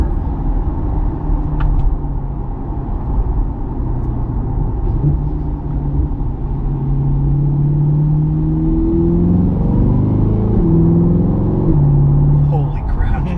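A 2020 Chevrolet Corvette C8 pulls hard from inside the cabin. Its engine note climbs in rising sweeps, broken by quick gear shifts that drop the pitch, over a constant road rumble.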